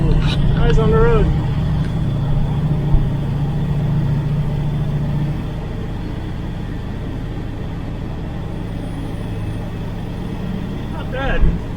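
A 1970 Camaro project car with a tall rear end gear drives along a road, its steady mid-pitched engine drone and road rumble running throughout, louder in the first half, while someone talks over it.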